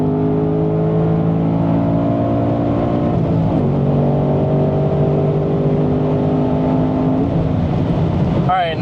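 Ford Mustang Dark Horse accelerating hard from inside the car, the engine note climbing steadily through the gears with a shift midway, loud and continuous.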